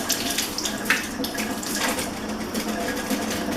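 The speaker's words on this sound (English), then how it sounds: "So I'm going to rinse the eggplants and rinse off that water." Tap water runs steadily into a sink while eggplants are rinsed under it, a close, continuous splashing stream with small shifts as the vegetables move through the flow, no voices.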